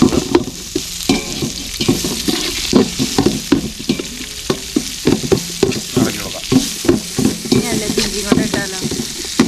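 Sliced onion sizzles loudly in a pan while a spatula scrapes and tosses it in quick, repeated strokes, giving an uneven rhythm of clatter over the steady frying hiss.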